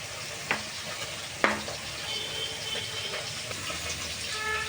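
Oil heating in a hot iron wok (kadai) before frying lentil fritters, giving a soft continuous sizzle with two sharp clinks of a utensil against the pan early on, close and moderately quiet.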